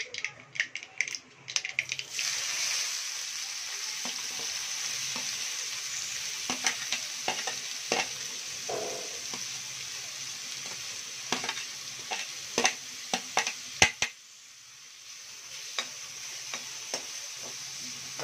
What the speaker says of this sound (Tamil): வெங்காயம் கொஞ்சம் சேர்த்துக்கலையா வதக்கலாம்